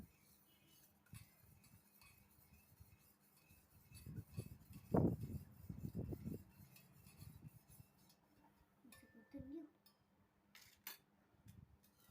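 A spoon clinks and scrapes against a glass while stirring salt into summer sherbet, a soft cluster of quick taps in the middle, faint and close with no talk.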